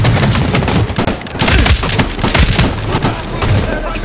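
Artillery fire in the Medal of Honor Warfighter shooter, a loud, close barrage of overlapping booms and gunfire-like bursts with heavy low thumps rolling continuously through the stretch.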